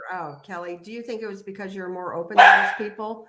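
Dogs bark in the background of a conversation, with one louder, sharp bark burst standing out midway through ongoing speech.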